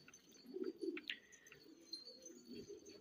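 Pigeons on a rooftop coo softly and repeatedly at close range, with a few faint higher chirps and light background noise.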